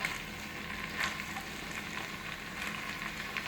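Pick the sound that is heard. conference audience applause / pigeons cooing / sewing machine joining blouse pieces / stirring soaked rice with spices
stirring soaked rice with spices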